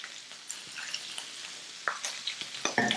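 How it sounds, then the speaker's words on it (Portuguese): Celery stirred into the sauce for octopus provençal, a soft sizzle with spoon scrapes and clinks against the pan growing more frequent toward the end. "Aqui eu estou misturando salsão porque eu adoro"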